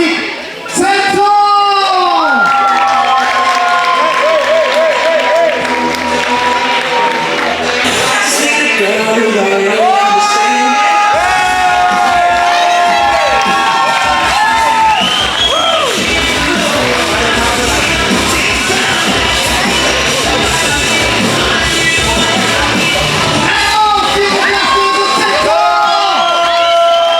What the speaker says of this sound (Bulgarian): силни аплодисменти за нашия втори участник Цецо!